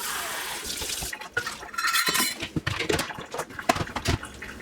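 Water is poured into a Ninja blender jar for banana bread batter, a splashing, trickling rush with uneven gushes and small knocks, close and fairly loud.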